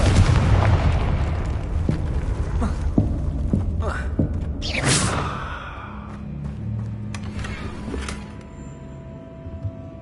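The Confringo explosive spell goes off in Hogwarts Legacy with a heavy, rumbling blast that is followed by sharp cracks and a bright burst. A voice is heard speaking and the blast fades into a low drone.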